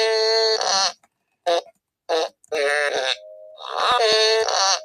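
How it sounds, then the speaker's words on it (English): A fart piano toy plays a run of drawn-out, tonal fart noises, several long blasts broken by short squeaky bursts, loud and close with no talking. "This is a fart piano."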